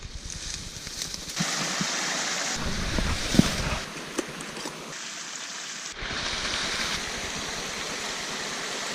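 Creek water flowing on a hillside, a broad rushing wash that swells and dips, close and fairly loud with no talking.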